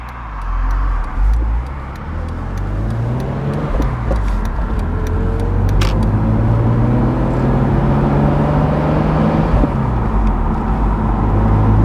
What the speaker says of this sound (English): The exhaust starts to howl